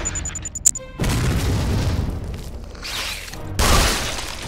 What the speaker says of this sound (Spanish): está lanzando granadas a punta pala